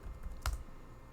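A few soft keystrokes on a computer keyboard, one sharper click standing out, brief and quiet in a calm room.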